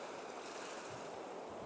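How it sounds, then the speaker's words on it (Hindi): Steady sea surf washing continuously, a soft broad roar of waves at moderate distance with no voices over it. "मुझे समंदर का शोर ना बहुत अच्छा लगता है।"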